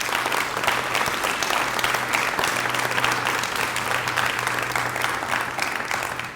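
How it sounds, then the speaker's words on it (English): A roomful of audience members at a school event breaks into sustained applause, dense and steady clapping that holds at full strength from start to finish with no talk over it. "give yourselves a round of applause"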